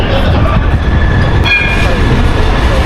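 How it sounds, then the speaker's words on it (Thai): A tram arriving at The Hague Central station, a loud, close, steady rumble of wheels on rails with a brief bell-like tone partway through and no talking. "รถรางไปโรงแรมนะครับคันนี้เลยมาแล้ว"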